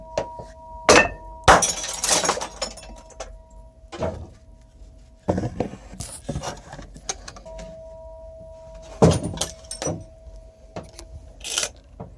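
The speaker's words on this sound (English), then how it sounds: "that was me hitting one of the light bulbs overhead and shattering the thing" An overhead light bulb hit and shattered in a woodworking shop, giving a sharp glassy crash, followed by scattered clinks, knocks and rattles at irregular intervals and a faint steady hum in the background.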